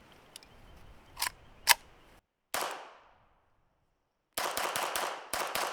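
A Titus Arms TA61 Skorpion VZ61 pistol fires from a 10-round magazine: a few sharp single cracks, a pause, then a quick string of rapid shots. The reports sound somewhat distant and subdued.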